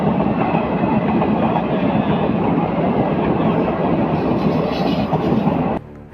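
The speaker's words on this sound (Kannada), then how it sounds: "ಚುಕು ಚುಕು ಶಬ್ದ ಮಾಡುತ್ತಾ ರೈಲೊಂದು ವೇಗವಾಗಿ ನಿಲ್ದಾಣಕ್ಕೆ ಬಂತು" A train running into a station, a loud continuous rumble of wheels and carriages with faint rhythmic clatter, close and steady until it cuts off abruptly at the very end.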